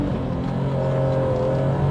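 A BMW M3 E36 pulls hard under acceleration, a steady, loud engine drone with a slowly rising note over a couple of seconds.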